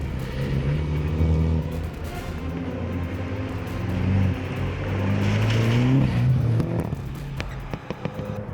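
Mini race car driving a tight parking lot course, its engine buzzing and revving steadily at moderate distance with shifting pitch as it accelerates through turns.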